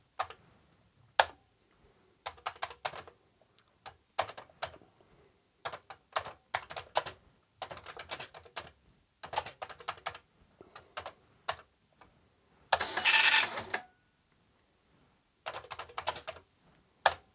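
Commodore MPS-801 dot-matrix printer printing, a rapid buzzing rattle of print-head bursts broken by short pauses and carriage moves, repeating steadily, with one louder, denser burst partway through and no talk.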